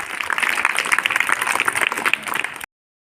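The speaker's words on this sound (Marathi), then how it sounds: "आपण सर्वांचं टाळ्या वाजवून स्वागत करूया." Students at a school debate competition clap together in a warm, steady burst of applause that fills the room for a few seconds, then cuts off abruptly.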